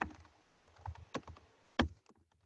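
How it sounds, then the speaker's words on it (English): A computer keyboard is tapped out at a steady, light pace as a search is typed into Canva, the quiet keystrokes close and unaccompanied, with one heavier key press near the end. "you can type it in here, YouTube"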